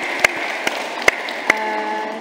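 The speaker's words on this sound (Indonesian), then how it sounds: "Yes, tepuk tangan Tridadi." A handful of isolated, sharp hand claps from an audience at a small-business gathering in Tridadi, four distinct claps at uneven intervals over a steady background hum, with no voices.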